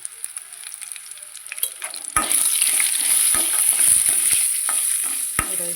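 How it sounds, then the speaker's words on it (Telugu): Curry leaves rice with a little turmeric fries in a pan, a soft crackle that swells into a fuller sizzle partway through, broken by sharp spoon scrapes and knocks against the pan, close up and without speech. "ఇప్పుడు ఫ్రై అవుతూ ఉంటుంది"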